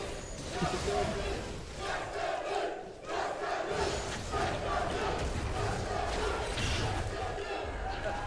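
A large esports crowd at a League of Legends final roars and chants continuously after an ace, loud and sustained, with commentators talking over it.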